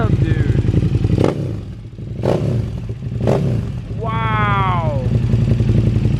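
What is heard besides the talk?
2020 Streetfighter motorcycle engine revving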